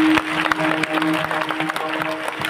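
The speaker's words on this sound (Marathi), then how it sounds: "त्यांच्या नावानं जोरदार टाळ्या वाजवा एकदा." A crowd at a Marathi kirtan gathering claps together, with uneven bursts of hands over a sustained harmonium-like drone, fairly close and loud.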